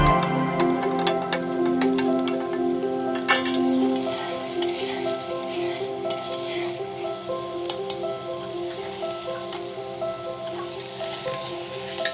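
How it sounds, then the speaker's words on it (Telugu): Boiled prawns and mutton keema are stirred and fried in a pan for an Andhra-style spicy prawn pulav, giving a steady close sizzle with repeated scraping stirs throughout and no talking. "ముందుగా ఉడకబెట్టుకున్న రొయ్యలు మరియు మటన్ కీమా ఉంది కదా అది ఇప్పుడు ఇందులో వేసి ఒక ఐదు నిమిషాల పాటు వేపించుకోవాలి"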